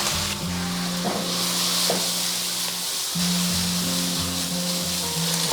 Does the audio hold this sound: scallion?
yes